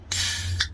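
A can of Bucks Fizz Pale, a pale beer brewed with champagne yeast by Vocation Brewery, cracks open with a sharp hiss of escaping gas and then a second quick fizzing spurt, both close and brief.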